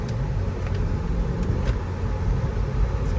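A 2023 Acura Integra with a manual gearbox cruises in third gear, heard from inside the cabin as a steady low engine drone and road rumble, with no speech.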